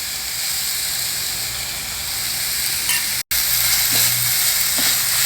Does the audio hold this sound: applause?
no